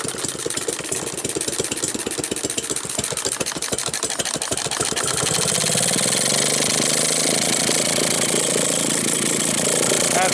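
A Maytag model 72 washing machine engine, a small single-cylinder motor under restoration, idles after a cold start with rapid distinct popping beats that smooth into a denser, steadier drone midway through.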